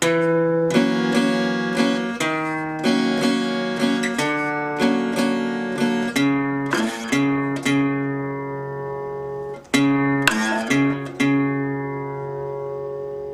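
Country blues guitar intro, played solo on a single guitar: plucked notes moving between the fifth and fourth strings, each ringing and decaying, a clear close sequence with no voice.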